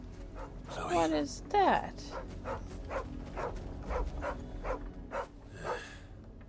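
A dog barks in Final Fantasy 16, with several sharp barks early on and quieter yips after, mixed with a voice talking over game background sound.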